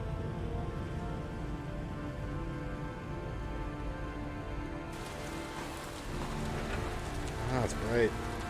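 Steady rain falls in the video game Heavy Rain, a dense, continuous hiss that holds through the whole stretch, with a brighter layer joining halfway and brief voice-like tones near the end.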